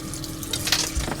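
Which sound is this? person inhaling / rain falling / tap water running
tap water running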